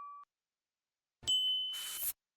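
A bright subscribe-bell notification chime rings clearly: a brief tone, a pause, then a sustained ringing ding with a shimmering tail, heard alone in silence.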